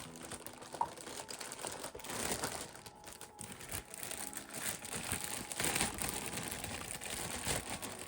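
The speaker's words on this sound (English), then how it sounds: "I'll just leave you with a bit of the ASMR of opening the package for a moment" Plastic packaging of an Airfix 1/72 RNLI Severn Class lifeboat model kit crinkles and crunches up close, steady rustling bursts with a sharper snap near the start.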